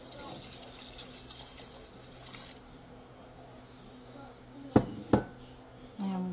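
Vegetable stock poured for tomato basil soup, a steady liquid pour running for a few seconds under faint background noise, followed by two sharp knocks and a low hum near the end.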